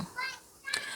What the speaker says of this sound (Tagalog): pasensya na sa ingay, may naglaro ng mga bata sa labas